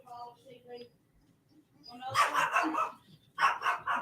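Several dogs bark indoors at a house in short, repeated bursts, with a brief yip, then a second volley of barks; a person talks faintly in between.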